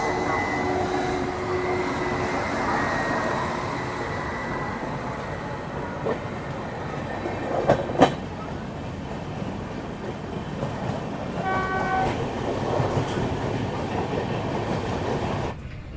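Shatabdi Express running on rails after leaving Malda Town, a continuous close rumble with rhythmic clickety-clack over joints and a couple of sharper knocks, heard from inside the coach.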